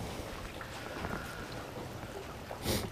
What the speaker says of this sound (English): It is a rainy, cold day.